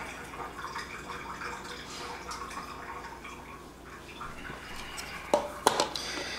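Packing water drains and drips out of a can of chicken, soft irregular trickles and splashes close by, with a few sharp metallic clinks near the end.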